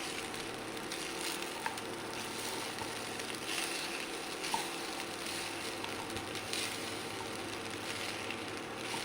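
Cooked rice and boiled chickpeas are stirred together in a hot pan for a home lunch, giving a steady, soft sizzle with faint scraping throughout and no talk.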